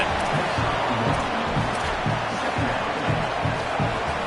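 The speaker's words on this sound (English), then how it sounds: "Now this home crowd making life difficult" Steady home crowd roar from a stadium in an NCAA college football video game, a dense continuous wash of massed voices and cheering holding at a constant level with faint pulsing chants underneath.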